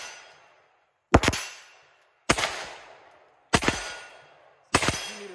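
Four sharp gunshots ring out at even intervals outdoors, each followed by a decaying metallic ring and echo from steel targets downrange, with quiet gaps between.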